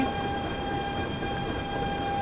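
A BR 187 TRAXX 3 electric locomotive runs in the Train Simulator Classic video game, giving a steady, continuous rail rumble with a constant electrical whine and hum and no breaks.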